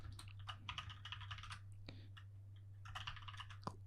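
Quick bursts of keyboard clicks as commands are typed into PowerShell on a computer, close and clear over a low steady hum, with a brief pause midway.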